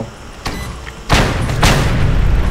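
Gunfire and explosions in the video game Just Cause 2, a sharp shot followed by two heavy booming blasts close together, loud, with a rumbling roar that carries on afterward.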